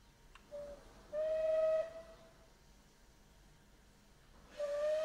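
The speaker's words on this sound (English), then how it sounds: "One last whistle to say goodbye from Clanline." Steam whistle of the Merchant Navy class locomotive Clan Line in Train Simulator 2020: a short toot, then a longer clear blast, and a third blast after a pause, each with a breathy hiss.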